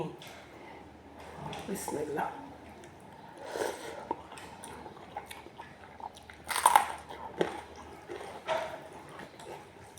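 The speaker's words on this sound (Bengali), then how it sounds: "লাউ তরকারি দিয়ে ভাত খাবো আমি" Someone eating rice with bottle gourd curry, with close soft chewing, wet squishy bites and an occasional crunch, broken up by talking.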